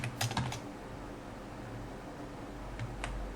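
Soft computer keyboard typing while entering HTML code, a quick cluster of close clicks at the start, a lull of low hum, then a couple more keystrokes near the end.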